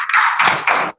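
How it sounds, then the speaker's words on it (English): An audience in a training session claps for Mike in three quick, loud bursts of close applause that stop abruptly. "let's give Mike a round of applause"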